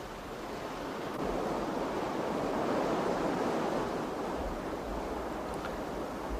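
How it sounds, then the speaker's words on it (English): Snowmelt water cascades down mountain streams at the foot of the Tetons, a steady, dense rushing roar that holds evenly throughout with no voices. "Mineral-laden water from the melting snow forms rich, cascading streams at the foot of the Tetons"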